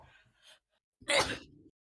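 A brief, forceful sneeze sounds close by, preceded by a few soft murmurs, then quiet.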